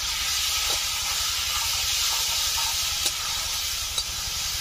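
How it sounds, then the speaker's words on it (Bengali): Potatoes being sautéed in a pan with a splash of water: a dense, steady hiss of sizzling and steam, close and continuous, with a low rumble beneath and a couple of faint clinks. "সামান্য একটু জল দিয়ে কষে নেব।"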